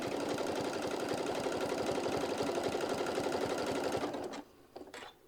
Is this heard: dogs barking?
no